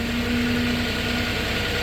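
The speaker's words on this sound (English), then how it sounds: "Here's your mast going up and down." The engine of a 2019 Princeton PB55.3 truck-mounted piggyback forklift runs at a steady idle with a humming, vibrating drone while the mast moves up and down, with no voices.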